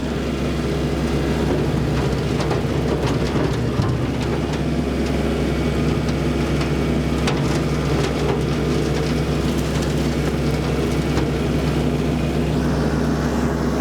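A tractor runs a Land Pride RCR1872 rotary cutter while mowing, giving a loud, unbroken rumbling drone that holds steady from start to finish with no talking.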